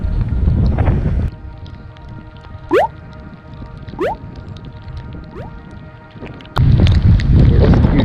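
Strong wind at a beach at Manori, Mumbai, buffets the microphone in loud, rumbling gusts at the start and end, easing in between, where a few faint chirps can be heard.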